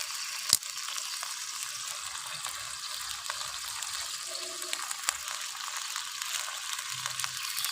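Onion and ginger paste with spices frying in a pan, stirred steadily, gives a faint, continuous sizzle with occasional scrapes and one sharp clink early on, no voices.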